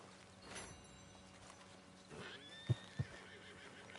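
A horse in the Red Dead Redemption 2 video game gives a high whinny, followed by two sharp hoof clops over a quiet ambient background.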